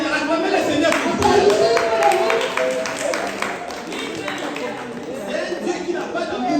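A church congregation claps to acclaim the Lord, a moderate round of clapping from many people mixed with crowd chatter and a speaking voice, loudest early and then easing off.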